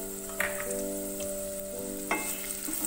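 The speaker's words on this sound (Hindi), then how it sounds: "ऑयल हमारा गर्म हो जाएगा हल्का सा तो मैं इसमें प्याज शामिल करूंगी" Chopped onions hit about two tablespoons of hot oil in a pan and sizzle steadily up close, with a few brief scraping stirs.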